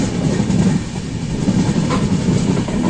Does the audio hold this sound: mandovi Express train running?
yes